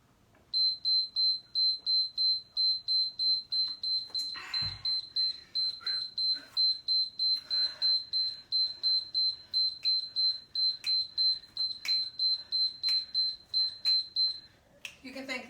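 Workout interval timer beeping in a steady fast series of short high tones through most of the clip during a HIIT circuit, with a few soft thumps and faint background noise.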